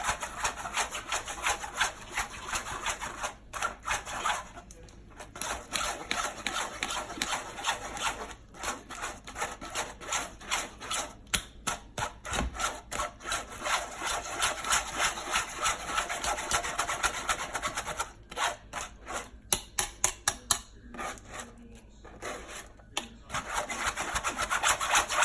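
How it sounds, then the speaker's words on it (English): Sweet potato pudding mixture being strained to remove lumps gives a continuous rough rubbing and scraping, with rhythmic strokes and brief pauses, fairly close and steady, and no talk. "she's straining it so that she can get all of the liquid out"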